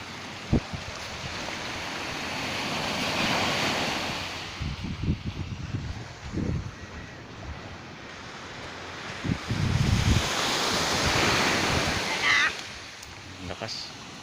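Ocean waves wash along a shoreline with views of the Bataan mountains, a steady surf roar with wind buffeting the microphone, swelling louder in places, while people talk now and then.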